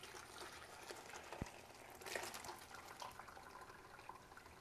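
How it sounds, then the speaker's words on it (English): Soup stock poured carefully through a paper towel strainer, a soft, faint liquid trickle and pour with a brief gush partway through, quiet and close. "you're very carefully just gonna pour this in."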